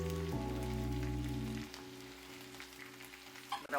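Sausages, bacon and tomato fry together in a pan for a traditional full English breakfast, a soft, steady sizzle and spatter under a low hum that cuts out partway, with a few stirring clatters at the end.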